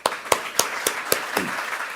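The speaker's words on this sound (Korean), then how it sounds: "우리 감사와 격려의 박수 드립시다" About six slow, evenly spaced claps ring out in a Sunday church service, each sharp and distinct with a short echo of the room, thinning out toward the end.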